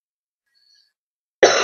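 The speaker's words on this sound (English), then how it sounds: "Or cough, in my case, clearly." A single sharp cough from a person with a cold, loud and close after a stretch of near silence.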